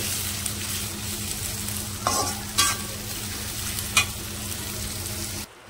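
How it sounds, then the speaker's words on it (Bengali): Sliced onions fry in hot oil for birista, the crisp fried onions for chicken mughlai. A steady sizzle runs throughout, broken by a few sharp scrapes of stirring, with no talk. "এবার আমি আস্তে আস্তে পেঁয়াজগুলো দিয়ে দেবো। আমি বেরেস্তা বানাবো। একটু নাড়িয়ে নেব।"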